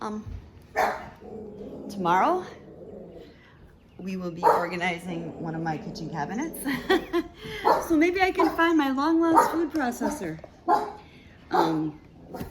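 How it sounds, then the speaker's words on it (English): A dog barks intermittently in the background of a home kitchen while a person talks over it, the yips and barks rising between and under the speech. "Sorry about the dog barking in the background."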